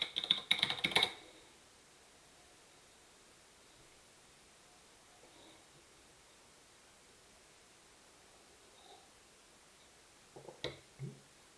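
Keystrokes on a computer keyboard entering a terminal install command, a quick dense burst at the start, then near silence and a few faint clicks near the end.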